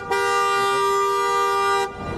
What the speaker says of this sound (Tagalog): galit sa busina yung mga driver dito